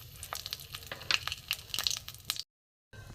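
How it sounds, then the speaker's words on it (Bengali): Whole spices, dried chilli and a bay leaf crackle and sputter in hot mustard oil, with sharp pops over a steady sizzle, close and fairly loud, cutting out briefly near the end. "ফোড়ন দিয়ে দিলাম।"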